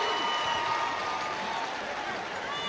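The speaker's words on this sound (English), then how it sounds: "Lynden Christian, Cody Bierlink will come out to a big round of applause from the Link faithful" Applause and crowd noise fill a high school gym at a state 2A boys basketball championship game, a steady wash of clapping and cheering from the home fans, holding at an even level throughout.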